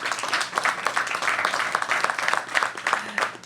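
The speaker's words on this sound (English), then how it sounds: "One more round of applause." Crowd applause at an outdoor ribbon cutting ceremony for a new business: continuous, fairly close clapping from a group, steady and energetic for the whole moment, with no speech.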